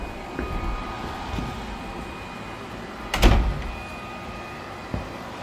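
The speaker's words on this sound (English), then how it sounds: "I'll shut this door." A room door shut at home while a robot vacuum runs: one sharp, close thud near the middle over a steady low machine hum, with a fainter knock shortly after and no speech.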